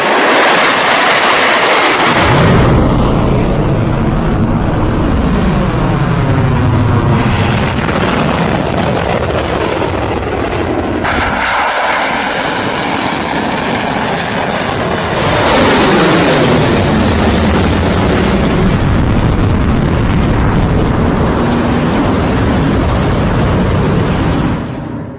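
Iranian Fateh missile launch: a very loud, sustained roaring rumble that starts with a sharp burst and swells and surges for over twenty seconds, close and overwhelming.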